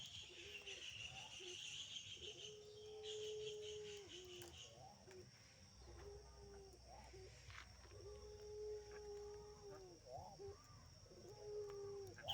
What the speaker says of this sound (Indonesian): Puter pelung. Ini puter pelung.